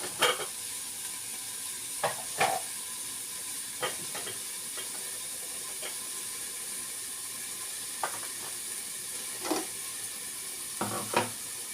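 Grated coconut is stir-fried in a pan over a low flame, giving a steady soft sizzle and hiss broken by occasional light scrapes and taps of a stirring spoon, close and without talk.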